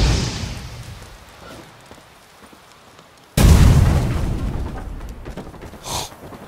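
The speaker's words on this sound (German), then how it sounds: "Die Explosion ist echt geil" In The Witcher 3, the Igni fire sign cast on a chest sets off a sudden loud, deep booming explosion, followed by a rumbling, crackling tail that fades over a few seconds.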